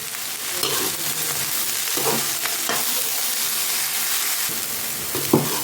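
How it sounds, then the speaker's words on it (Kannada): Grated coconut being stirred into frying bean palya in a pan, a steady sizzle with scraping spoon strokes and occasional louder clinks, close and continuous with no voices. "ಕಾಯಿ ತುರಿ ಹಾಕಿಬಿಟ್ಟು ಚೆನ್ನಾಗಿ ಮಿಕ್ಸ್ ಮಾಡಿ"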